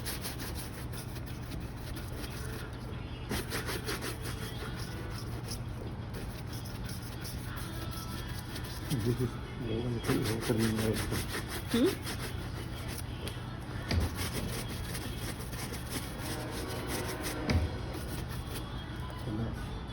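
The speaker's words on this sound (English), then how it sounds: "Then he's gonna go back to brushing." Boot being brushed during a shine, heard as a steady close rubbing and scrubbing texture that runs throughout, with faint background noise and a few slightly louder strokes.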